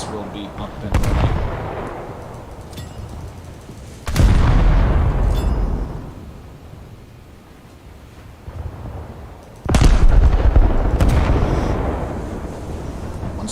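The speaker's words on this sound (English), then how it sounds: "One more volley, and main guns will be up and running." A War Thunder battleship's main guns firing volleys, three heavy booms spaced several seconds apart, each with a long rumbling decay, amid ongoing game noise.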